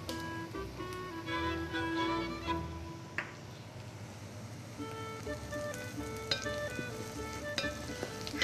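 Chopped onion and ginger sizzle in a pan over very high heat for an Armenian pumpkin soup, a steady crackling fry with occasional stirring clicks and no one talking.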